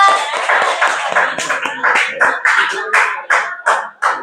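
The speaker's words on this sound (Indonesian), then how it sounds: "boleh tepuk tangan dong buat kelompok 2" A small group in an Indonesian group counseling session claps for a team, close, loud, fairly uneven claps in a loose rhythm, with a brief murmur of voices in between.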